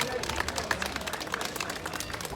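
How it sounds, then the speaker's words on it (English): Crowd applause for a competitor at an outdoor strongman sandbag carry event, a steady wash of clapping at moderate distance that continues throughout. "Round of applause there for Jamie."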